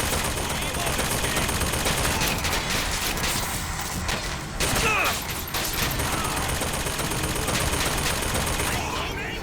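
Heavy gunfire in Bioshock Infinite, with loud, continuous bursts of shots running through the whole stretch at a steady, close level and a voice faintly under the shooting.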